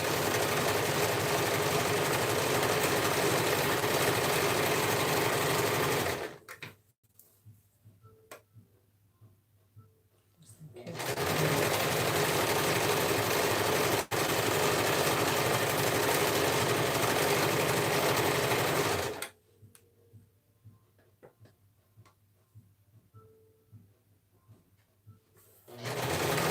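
A sewing machine stitches over thick knit fabric while making a dressform cover, sounding in two loud sustained mechanical runs with an abrupt stop and quiet pause between them and a third run starting at the end.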